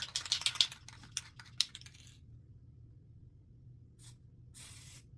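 Short hissing bursts of an aerosol spray paint can with faint rattles, then a quiet pause and two more spray hisses, close by.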